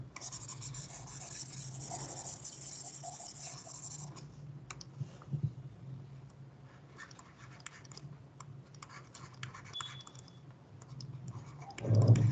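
A pen or pencil writing by hand, close and fairly quiet, with scratchy strokes and short pauses over a faint background hiss, then a louder thump near the end; no one speaks.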